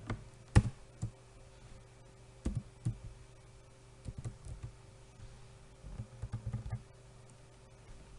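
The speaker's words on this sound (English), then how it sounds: "So when I type the dependency" Keys clack on a computer keyboard while typing in Visual Studio, in short irregular bursts of quiet clicks separated by brief pauses, close and with no talking.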